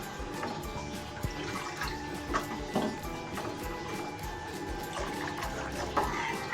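Water pours into a curry pan of fried masala and fig curry, a steady low rushing and trickling with faint clinks of the pan.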